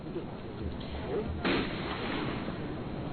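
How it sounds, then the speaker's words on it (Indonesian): A single sharp gunshot crack rings out during a night-time Densus 88 police siege of a house in Beji village, Temanggung, Central Java, rising briefly above a steady, dense wash of broadcast background noise. "suara tembakan masih terdengar dari lokasi kejadian"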